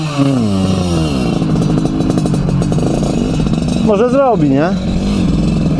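A Simson motorcycle on an enduro outing revs up close on the throttle, giving a buzzy two-stroke whine that swells and falls in sharp bursts. People talk over the engine.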